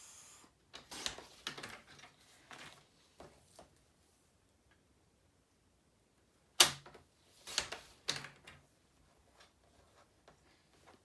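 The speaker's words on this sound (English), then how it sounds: "I'm just going to cut this on my cutter" A paper trimmer slices a sheet of cardstock during a craft session, giving quiet clicks and a few sharp snapping cuts separated by pauses, close and otherwise near silent.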